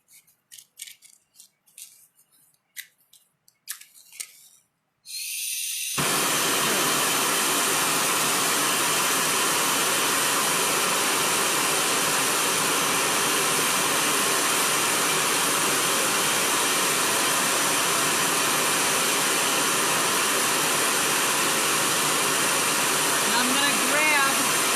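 An enamelling torch for enamel on steel wire is lit after a few brief scratchy clicks and then roars steadily and loudly for the rest of the time, a constant close hiss with no talking.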